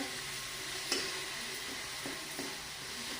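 Tomato fries with cooked vegetables in a pan for a masala Maggi, a steady close sizzle with a couple of light stirring knocks, no talk.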